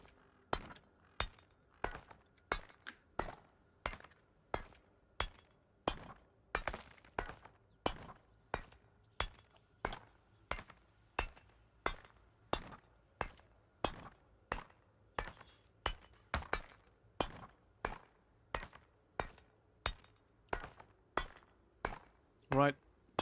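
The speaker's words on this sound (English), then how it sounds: "Chiseling some rock and stone." Rock and stone being chiseled in Project Zomboid: sharp, regular tapping strikes repeat steadily around once per second for the whole stretch, fairly quiet and close, with no talk.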